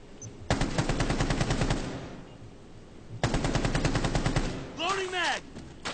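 Rapid automatic gunfire in Rainbow Six Siege rattles out in two loud, sustained bursts separated by a short pause, followed by a few metallic ricochet-like whines.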